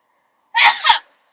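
A single close, loud human sneeze inside a truck cab, a sharp burst with a quick second catch near its end, then quiet.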